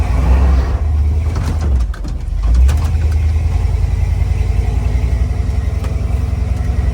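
An abandoned 1979 Ford F-250 pickup drives through a neighborhood, its engine giving a steady, loud low drone with a brief dip in the middle, close and continuous throughout.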